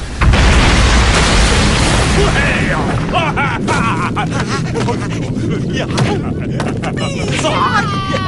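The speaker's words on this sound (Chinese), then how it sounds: "油库爆炸，绿毛兵全军覆没了" An oil depot blows up in the 2012 animated film "邋遢大王奇遇记" with a loud, close boom. A long roaring, crackling rumble follows, with cries and voices breaking through the din.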